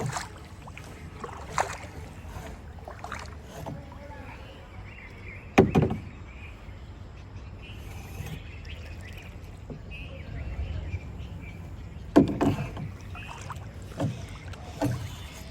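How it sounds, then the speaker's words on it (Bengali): Wooden oars knock and splash at irregular intervals, with two louder thumps standing out over quiet outdoor background noise. "একা একা নৌকা চালাচ্ছে"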